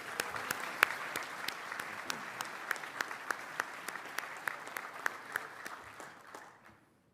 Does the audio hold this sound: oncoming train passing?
no